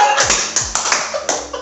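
A few people clap their hands to brush off sand after a fall during a motorbike outing: several sharp, close claps in an uneven rhythm, loud and alone.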